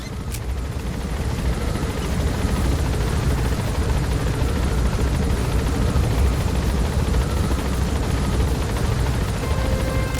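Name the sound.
video game helicopter with music playing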